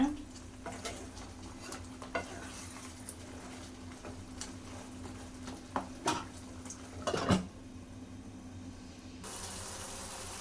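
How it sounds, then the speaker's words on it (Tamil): A spoon scrapes and taps against a pot of simmering curry in scattered strokes over a soft background hum, ending in a brief hiss. "இடையில அப்பப்போ கிளறி விட்டுருங்க."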